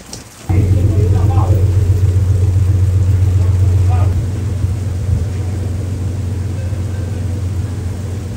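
Steady, heavy rain pours down in a dense roar on a riverboat in the Peruvian Amazon, loud and continuous, with a low rumble underneath that eases slightly after a few seconds.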